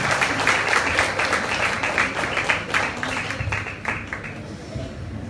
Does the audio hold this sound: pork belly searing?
no